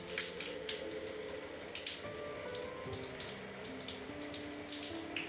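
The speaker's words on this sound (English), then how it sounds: "fill up with warm water" Warm water runs steadily from a tap into a jar, a continuous splashing flow with a rising fill tone, close and fairly loud.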